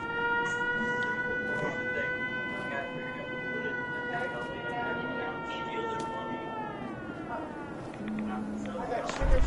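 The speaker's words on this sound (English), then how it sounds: "my siren's going off" A camp siren alarm in the video game Fallout 76 holds a long steady wailing tone that slowly falls in pitch. Speech and clicks come over it, and the tone drops out near the end.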